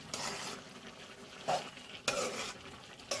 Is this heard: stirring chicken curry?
yes